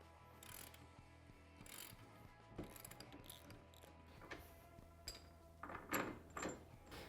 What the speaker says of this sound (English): Put the nylock nuts on the back side, and we're going to tighten these down.